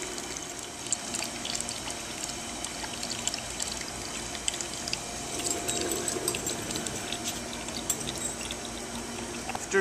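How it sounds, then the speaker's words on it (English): Water drains out of a cold water vessel into an external drain once the top tube is released, giving a steady, continuous pouring and trickling that runs the whole time at moderate level with no talking. "And watch the draining begin."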